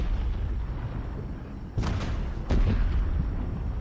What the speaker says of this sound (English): Stop trying to shoot me with your tank.